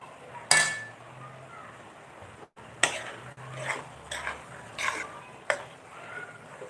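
Soaked, drained puffed rice (mamra) stirred in a bowl with a spoon for a bhel snack: a few sharp clinks and scrapes against the bowl, spaced apart over a quiet background.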